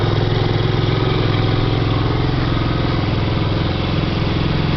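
A Yamaha Vino Classic scooter engine, just cold-started with the first kick, idles loudly and close by with a steady, even chug throughout and no voices.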